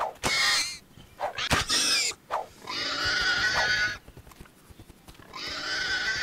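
Pig grunts and squeals from the video game Vortex: The Gateway, several loud bursts with gaps between them, along with other game sound effects and no speech.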